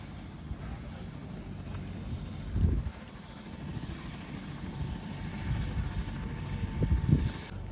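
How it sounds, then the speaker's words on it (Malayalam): A low, rumbling helicopter drone fills the background at moderate distance, rising slightly toward the end, with a couple of nearby thumps, heard in the high Himalaya between Dingboche and Chhukung near Everest. "ഒരു ഹെലികോപ്റ്റർ വന്നിട്ടുണ്ട്."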